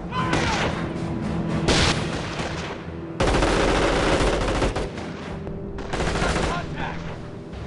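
Dense gunfire and explosions in the Company of Heroes online battle game, with continuous heavy bursts of machine-gun fire and booms that fill the whole stretch, loud and close, with brief dips between volleys.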